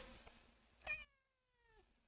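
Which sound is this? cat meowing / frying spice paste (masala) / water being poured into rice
cat meowing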